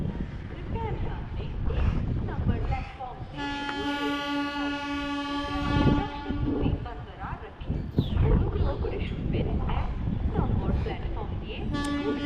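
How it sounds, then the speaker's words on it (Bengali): A passenger train approaches a railside spot with its horn sounding in long, steady toots, rumbling louder over a busy background as people talk nearby. "ওই দেখো কোথাকার ট্রেন আসছে, দেখা যাক।"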